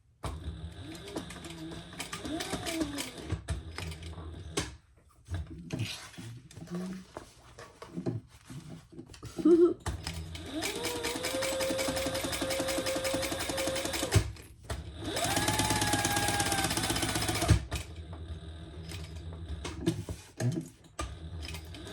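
A sewing machine stitches around a fabric shoulder bag in several close bursts, each a fast mechanical whirring run that starts and stops, with quiet pauses and small clicks and handling noises between the runs.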